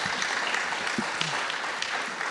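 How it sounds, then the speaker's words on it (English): Soft, scattered clapping from a small crowd, fairly faint and brief, with a few louder claps standing out. "Let's give that woman a nice round of applause."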